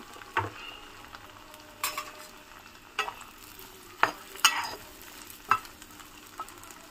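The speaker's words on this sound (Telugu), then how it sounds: "ఫస్ట్ అయితే నేను క్యాప్సికమ్, ఆనియన్ అండ్ బఠానీ అనేది వేసేసుకుంటున్నానండి. ఇది బాగా ఫ్రై అవ్వాలి." Capsicum, onion and peas frying in a pan, a low continuous sizzle punctuated by sharp spatula scrapes and metallic taps every second or so, near and crisp, without any talking.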